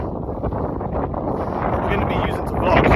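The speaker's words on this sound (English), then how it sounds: "See how windy it is, man, on this peak." Strong wind on a mountain peak buffets the microphone in a continuous, roaring rumble that grows louder toward the end.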